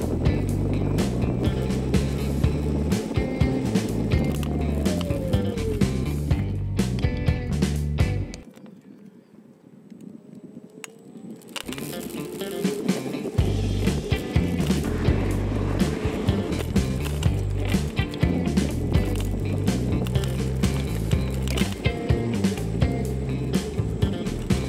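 Xiaomi M365 electric scooter at top speed, about 30 km/h on stock 10-inch wheels with an extra battery, giving a steady loud rolling rattle and wind roar that drops away briefly in the middle.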